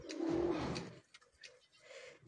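Racing pigeons coo on a Punjab rooftop, with one soft, close, throaty coo dominating the first second, then quieter scattered coos and faint rustles in a calm setting.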